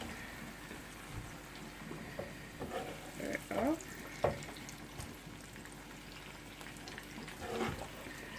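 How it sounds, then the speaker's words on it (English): Fried egg with spinach stirred in a pan, giving a faint ongoing sizzle broken by a few soft scraping and clinking touches near the middle and end, with no talk. "You stir it up."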